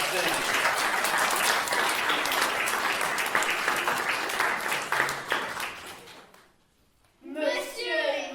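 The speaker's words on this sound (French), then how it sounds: "On peut déjà applaudir Catherine qui fait partie de la scène." A theatre audience claps in sustained, dense applause that fades out, followed by a brief burst of speech in French.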